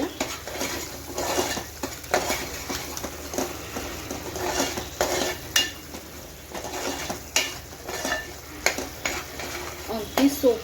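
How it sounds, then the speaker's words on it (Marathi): Red chili powder is stirred into fish curry masala with oil in a pan for a Surmai curry, giving repeated scraping utensil strokes against the pan over a steady sizzle, close and fairly loud. "छान मिक्स करून घेऊया."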